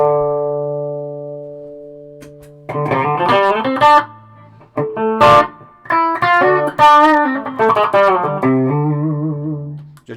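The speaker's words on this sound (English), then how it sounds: "I just use the spring reverb just because it's real." An electric guitar plays through a Laney VC15 valve combo with its spring reverb: a sustained chord rings out and decays, then a run of plucked single notes and short phrases follows, each tail washing into reverb.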